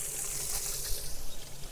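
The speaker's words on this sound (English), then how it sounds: "I'm just gonna turn the water on." Water runs continuously from a tap at a chicken-butchering setup beside a plucking machine, a close, steady hiss and trickle with a few louder splashes toward the end and no talking.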